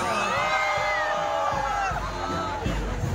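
A large crowd at a religious pilgrimage to the National Shrine of Our Lady of Salambao shouts and cheers in rising bursts, loud and dense, with whoops over a steady roar.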